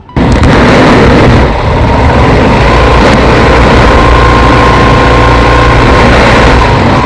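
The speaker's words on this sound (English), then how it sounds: "Now go ahead and listen to that engine sound." A scooter engine being revved roars loudly and steadily throughout, a dense rumbling drone that holds its pitch with only small rises, no voices over it.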